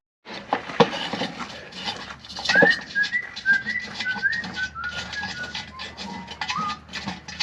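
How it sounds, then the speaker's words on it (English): A person whistles a meandering, made-up tune nearby while working on a Pontiac straight-eight engine, with a few clinks of metal and light clatter in the background. "What are you even whistling?"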